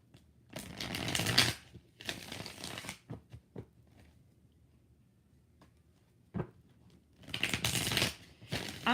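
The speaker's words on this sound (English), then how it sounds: "Four shuffles." Tarot cards are shuffled by hand in several bursts of crisp riffling and flapping, with quiet pauses, taps and small handling noises between, close up and without talk.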